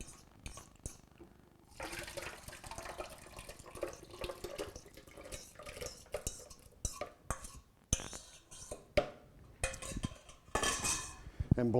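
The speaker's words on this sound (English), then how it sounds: "It's as simple as that, and we're gonna mix that up good. Get all the ingredients mixed." Breakfast batter ingredients being stirred and mixed in a kitchen, with a utensil clinking and scraping against a bowl in busy, irregular bursts and some water-like sloshing, close and moderately quiet.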